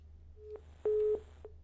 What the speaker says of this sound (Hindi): डागर साहब का फोन डिस्कनेक्ट हो गया है।